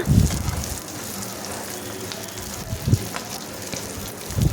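Steady sizzling and crackling of chillies and tamarind frying in a pan for garlic chutney, broken by a few dull clunks of stirring.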